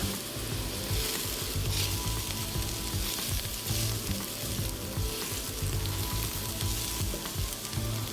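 Onions and garlic fry in a pan, a steady, close sizzle and crackle that runs without a break, with faint stirring and no talking.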